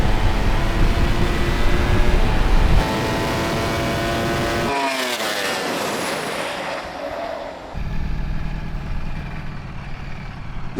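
An Audi RS car accelerates hard in a drag race, its engine rising in pitch through the gears. A break in the roar comes midway, then the loud, close engine sound returns.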